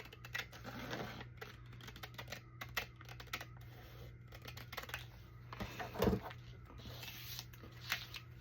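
Scissors cut along a drawn line on a brown paper sack, a quiet run of close crisp snips and rustling paper with small irregular taps, fairly faint and without talk.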